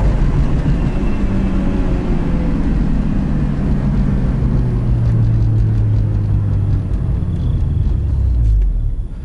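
A rear-wheel-drive car with its original engine drives along, a loud steady engine drone with a slowly rising tone as it accelerates, heard from close by without talk.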